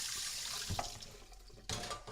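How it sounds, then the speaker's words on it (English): Tap water runs steadily through a pasta strainer being rinsed in a kitchen sink, a continuous close hiss with a brief knock partway through and a louder surge of flow near the end. "I can't do much for that, other than give it a quick rinse, because all the water goes through it"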